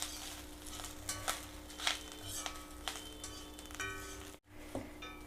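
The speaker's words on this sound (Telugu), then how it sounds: "ఇది కొంచెము పలపల అనేదాకా వేయించుకోవాలండి" Curry leaves frying until crisp in a pan, a continuous close sizzle and crackle with repeated sharp ticks and stirring taps against the pan, briefly cutting out near the end.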